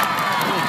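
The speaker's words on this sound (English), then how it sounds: "I'd say by that round of applause" Students at a school Red Ribbon Week celebration give a quick burst of crowd cheering and clapping, loud and continuous through the brief moment.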